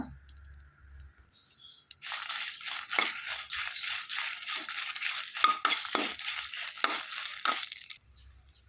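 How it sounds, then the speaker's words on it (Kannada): Dried red chillies fry in hot oil for a home-style ivy gourd palya, giving a steady crackling sizzle with intermittent stirring scrapes, close and moderately loud, after a quiet start. "ಅದಕ್ಕೆ ಒಣಮೆಣಸು ಹಾಕಿ ಸ್ವಲ್ಪ ಹುರ್ಕೊಳ್ಳುವ."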